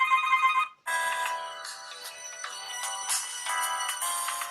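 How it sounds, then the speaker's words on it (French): An OUKITEL C5 Pro smartphone plays its ringtone, a bright electronic melody with a short opening phrase, a brief pause, then a busier repeating tune, loud and close with no one speaking. "on va faire la sonnerie du téléphone."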